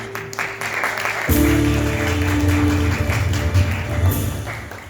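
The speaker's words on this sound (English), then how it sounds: "Round of applause for me." Audience applause at a live comedy jam session: clapping from the crowd over sustained musical tones, with a louder band entrance after the first second.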